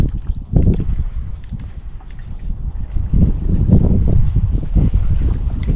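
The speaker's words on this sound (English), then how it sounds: "It's a little windy today." Wind gusts outdoors during a fishing and trapping outing, a steady low rumble buffeting the microphone with no talking, growing stronger and more constant in the second half.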